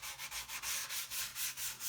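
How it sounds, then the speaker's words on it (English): Light sanding of a guitar kit body with 320 grit paper on a hard block gives quick rhythmic back-and-forth rasping strokes, about ten in under two seconds, close and dry with no talk. "I've just got some 320 grit paper here. What I'm going to do is just lightly sand the surface."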